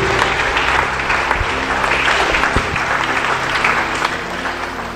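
A church congregation applauds and cheers for Jesus during a Sunday service, a loud, sustained wave of clapping from a large crowd with scattered shouts.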